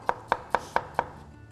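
A knife chops carrots into small pieces on a board in an Anatolian home kitchen, five crisp, evenly spaced strokes close to the microphone with no talking.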